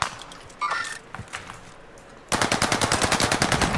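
Automatic gunfire in a video game, first a few scattered shots, then a fast sustained burst of evenly spaced loud rounds.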